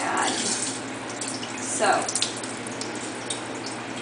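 Cold tap water runs steadily while homemade butter is rinsed in the kitchen, a continuous splashing hiss with a few brief drips and a short spoken word.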